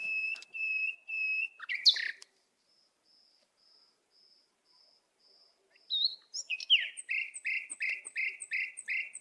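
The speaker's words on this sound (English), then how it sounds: "The first one is the large brown finch," Large brown finch of the Galapagos Islands giving repeated high, whistled chirps in two clear bursts separated by a quiet gap with a faint sustained tone, the second burst a rapid rhythmic series of sharp notes.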